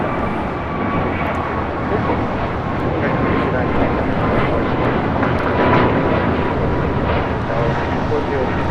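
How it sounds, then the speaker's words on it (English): American Airlines Airbus A321neo jet taking off from LAX, a steady, loud roaring engine rush that holds continuously through the whole span with no breaks, broad and full like a nearby departure. "59 taking off to Kailua Kona on an A321neo."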